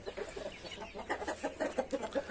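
A hen clucks in a rapid series of short calls, close and clear, with no talk over it.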